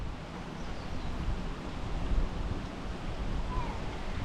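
Natural spring water falls continuously down a wall near a bridge in a valley village, a steady broadband rush of splashing water with a soft windy quality.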